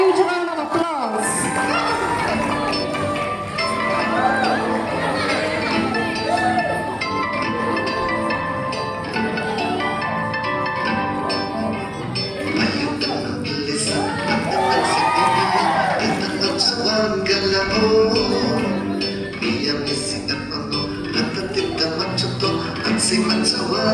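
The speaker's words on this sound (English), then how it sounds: "Please give her a huge round of applause." A school audience at a Children's Day celebration at a government school roars with sustained cheering, shouting children and clapping, a loud, continuous crowd din throughout.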